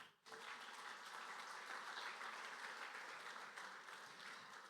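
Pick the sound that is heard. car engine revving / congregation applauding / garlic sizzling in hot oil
congregation applauding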